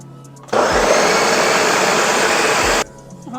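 A blender whirs loudly and steadily for about two seconds, then cuts off abruptly, as it purees purple cabbage with water, lime and ginger.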